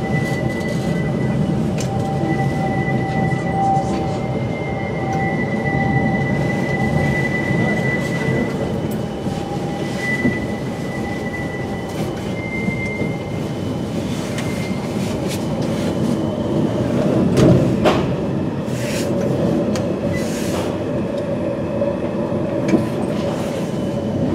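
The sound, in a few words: Birmingham tram running near New Street Station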